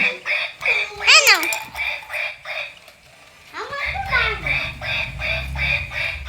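Ducks quack in short, nasal bursts, some close and loud, with lighter calls scattered among them. Children's voices can be heard nearby.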